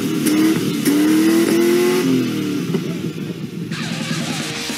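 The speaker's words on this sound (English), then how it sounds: "Are you trying to blow, blow up your engine?" A car engine revs hard and climbs in pitch, loud and close, then settles into a rough, rumbling idle.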